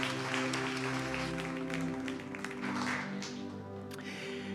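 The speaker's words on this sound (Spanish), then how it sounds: "Le damos un fuerte aplauso a nuestro Señor." A church congregation claps together in sustained, dense applause throughout, with a low sustained musical tone underneath and no clear talk.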